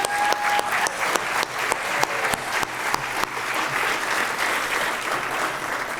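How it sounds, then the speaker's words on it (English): Dense audience applause at an awards summit and annual meeting, an even, continuous round of clapping from a sizable crowd filling the whole stretch with no talk over it. "So Joe, if you'd step forward and accept applause"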